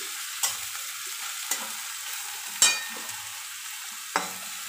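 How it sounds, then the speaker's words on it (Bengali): Chopped onions sizzle steadily in a pan for a fish curry, with four sharp spatula scrapes and knocks against the pan at irregular intervals over the continuous frying hiss. "এবার এই পেঁয়াজ কুচানোটা দেওয়ার পর পেঁয়াজটা ভালো করে নেড়ে নিচ্ছি।"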